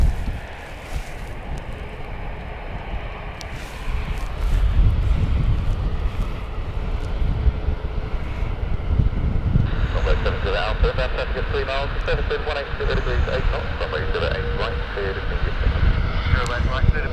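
A Norse airliner takes off at Gatwick Airport, its jet engine roar building from about ten seconds in and holding loud and steady over wind noise and a nearby voice talking.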